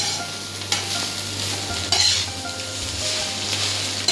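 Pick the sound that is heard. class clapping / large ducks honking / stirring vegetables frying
stirring vegetables frying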